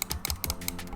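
A quick series of sharp plastic clicks from Logitech MX Master 3 mouse buttons, several in under a second, close and fairly quiet, with a light rattly texture.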